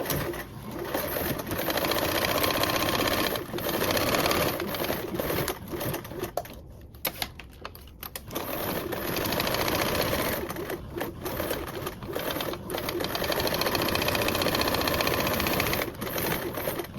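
A sewing machine runs in long steady bursts while basting around the whole perimeter of layered fabric with a 1/8-inch seam allowance, its fast rhythmic stitching loud and close with brief pauses between runs.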